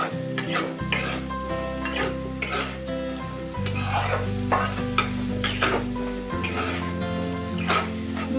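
Potatoes with turmeric and salt being stirred in a hot pan on high flame, a steady scraping and sizzle with occasional utensil knocks, close and continuous under a bed of background music.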